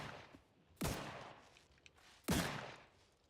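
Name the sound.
gunfire in the video game Outer Worlds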